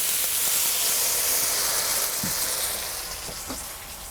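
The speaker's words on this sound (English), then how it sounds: "I'll put some water in the pan." Water hisses and sizzles in a hot pan of frozen sugar snap peas with garlic for a beef stir fry, a steady steamy hiss that holds throughout and slowly eases, with a couple of faint clinks.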